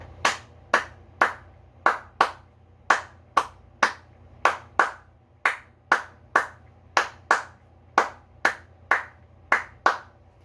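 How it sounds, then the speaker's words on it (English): A single person claps a syncopated New Orleans–style rhythm heard in Zydeco and Cajun music, crisp close hand claps in a repeating pattern of about twenty strikes, alone with no talk. "It's a pretty common clapping rhythm in a lot of New Orleans music, actually, and Zydeco music and Cajun music."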